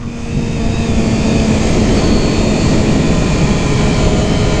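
A Yamaha R6 sport bike's engine roars steadily and loudly at close range, a continuous dense drone with a sustained low tone, as the rider gets going.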